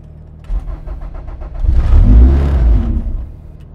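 A Honda B-series engine cranks and fires on a cold start, a brief starter whir then a loud swelling rumble as it catches and revs, very close and unaccompanied by speech.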